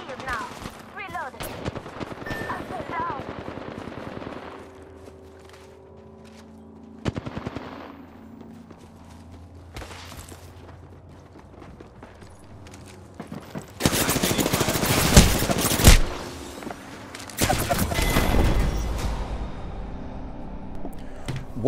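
Apex Legends ranked arena match full of gunfire: bursts of rapid automatic shots and single cracks, quieter early on and then heavy, loud sustained volleys toward the end, with voice lines and talking woven in.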